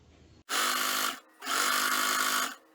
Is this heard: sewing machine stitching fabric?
yes